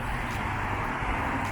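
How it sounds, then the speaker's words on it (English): Cars pass on an overpass at night in Dubai, a continuous dull roar of traffic noise at moderate distance, steady with no distinct single vehicle and no speech. "Sorry for the noise because it's overpass."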